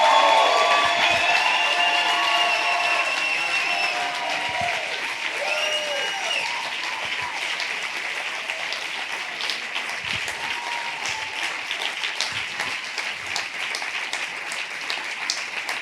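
A church congregation applauds together in a broad, sustained wash of clapping that starts loud and eases slightly while holding steady through the whole span, with faint cheering mixed in.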